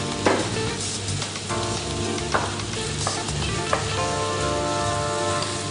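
Julienned chicken, carrot and celery fry in a pan, giving a loud, steady sizzle broken by a few sharp clatters as the mixture is stirred.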